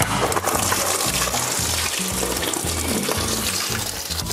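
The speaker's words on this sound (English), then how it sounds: "Leave the liquid to flow out for a few minutes." Coolant gushes steadily from a disconnected radiator hose on a Renault Clio mk4 1.5 dCi, a continuous loud splashing pour that runs unbroken throughout with no talk.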